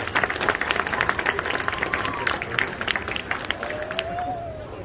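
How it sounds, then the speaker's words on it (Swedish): An audience at Comic Con Stockholm 2021 applauds a Star Wars costume group, a crowd of hands clapping loudly at first before fading into background murmur, with voices faintly heard underneath. "Jag tycker vi börjar med att vi ger dem en stor applåd för deras härliga kreationer"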